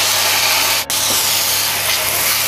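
Tomato puree hits a hot pan for spicy restaurant-style chicken curry, bursting into a loud, steady steamy hiss and sizzle that fills the moment close up, broken by one brief sharp clack near the start.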